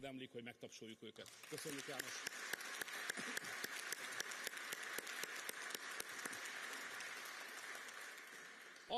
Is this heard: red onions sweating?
no